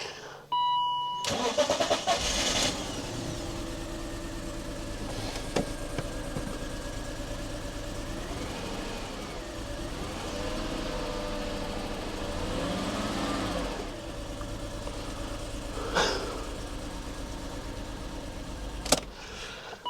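BMW E39 528i Touring engine cranks and starts, then idles roughly with an uneven, stumbling misfire, close and fairly loud, with a few beeps and a sharp knock toward the end and no speech.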